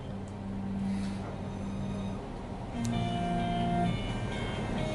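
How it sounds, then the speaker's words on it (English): A city light rail train rolls past with a steady low rumble and humming tones, fairly faint and continuous, with no talking. "This is the light rail system in the city."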